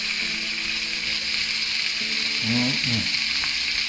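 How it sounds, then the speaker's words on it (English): Onions sizzle and fry steadily in a hot pan while browning, with a close constant hiss throughout and a brief whistling, tonal rise and fall in the middle. "I'm going to let this brown a bit."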